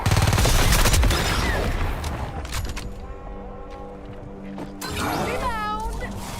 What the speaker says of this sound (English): Suppressing fire initiated.